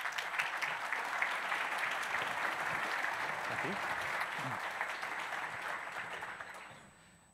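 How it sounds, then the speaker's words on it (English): Warm audience applause for a keynote speaker at the GraphConnect 2018 conference, a dense, steady roar of many hands filling the hall before fading out, with a brief spoken thanks over it. "Please give him a warm round of applause."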